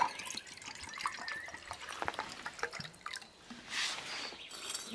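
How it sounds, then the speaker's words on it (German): Fresh water poured into a cheap aluminium cup, a faint trickling and dripping flow with small splashes that rises slightly near the end, heard alone at close range. "Wir füllen unsere Tasse."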